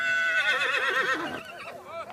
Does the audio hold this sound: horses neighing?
yes